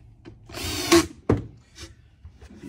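Power drill driving short pan head screws into a wood cabinet, a short whirring run ending in a sharp bite, followed by a knock and faint handling noise.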